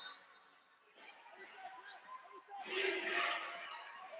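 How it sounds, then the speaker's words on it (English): Crowd at a junior college men's basketball game, Indy CC against Seward County CC, chanting defense in the final seconds, the rhythmic chant swelling louder toward the end amid general arena noise. "Crowd chants defense."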